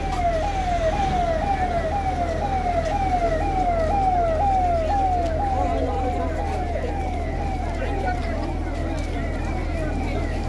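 An ambulance siren wails at an air crash site, its rising two-tone sweep repeating evenly and steadily over a constant engine hum and crowd background, with voices faintly audible beneath.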